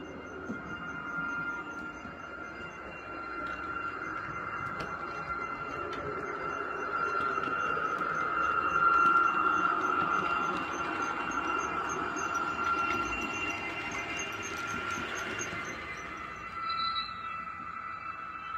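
An Intercity train rumbles into a station in Żagań, Poland, its steady roar swelling then easing, with a long, sustained high metallic squeal of wheels on the rails.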